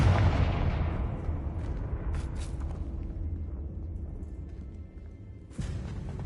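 In Hogwarts Legacy, a Confringo spell blast erupts in a catacomb: one heavy boom that fades into a long rumbling tail, with a second smaller burst near the end.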